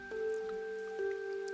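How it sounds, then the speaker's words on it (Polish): Rain falling in the rain town of the video game OMORI, a soft steady patter of drops over sustained tonal game music, with no voices. "Świat deszczu, miasteczko deszczu. Deszczowa kraina."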